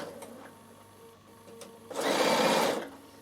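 A Bernina sewing machine stitches lace, starting quietly and then running in a loud, steady burst for about a second before stopping, close by with no talk over it.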